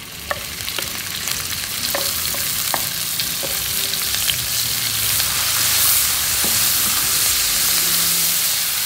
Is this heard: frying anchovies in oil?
yes